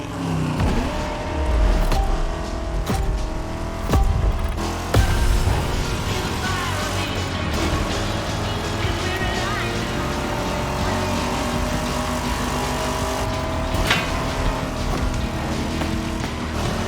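Vintage cars in The Crew Motorfest racing game drive with a steady engine drone, rising and falling as they accelerate and shift, with a few louder bursts early on, all fairly close and continuous.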